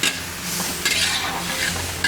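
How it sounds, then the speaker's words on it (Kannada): Onions frying in a pan at an old hotel kitchen making Davanagere oggarane mandakki, a steady close sizzle with scraping stirring strokes running through it. "ಈರುಳ್ಳಿ ಚೆನ್ನಾಗಿ ಫ್ರೈ ಆಗಬೇಕಾ?"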